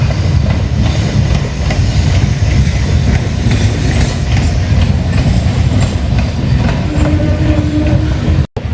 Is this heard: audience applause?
no